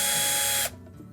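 Power tool running while removing screws from the top hinge plates of a Whirlpool washer, a short buzzing whir that cuts off abruptly after about half a second, leaving quiet.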